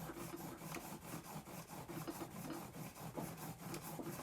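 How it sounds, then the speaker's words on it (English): The back of a chisel rubbed with honing paste on an MDF board, a quiet rhythmic scraping of repeated back-and-forth strokes, faint and close, no voices. "I've got an MDF board here, and I use that to polish the back."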